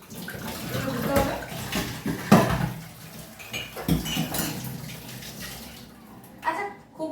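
Cups are washed in a kitchen sink, with running water splashing and ceramic clinks and knocks rising and falling, and a voice heard faintly in the background.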